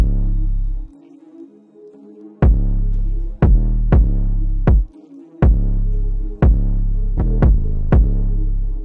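Layered kick drum samples in an FL Studio beat, a deep booming low-end hit repeated about a dozen times in an uneven bouncy pattern, loud and alone with brief gaps between hits.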